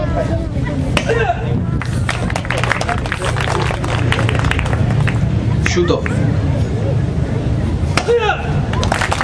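Karate breaking strikes land in a Shinkyokushin demonstration at an outdoor flower fair in La Paz, Uruguay, with several sharp cracks over a steady crowd murmur, scattered clapping and a voice calling out.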